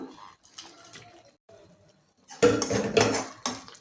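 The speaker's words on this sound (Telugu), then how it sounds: "ఇప్పుడు ముందుగా మనం నెయ్యిలో వేయించి పెట్టుకున్న పన్నీర్ ముక్కలు వేసేస్తున్నాను." Ghee-fried paneer pieces dropped into a pan of palak curry: a few light clatters at first, then a louder burst of clanking from utensil and pan near the end, close up, with no talk.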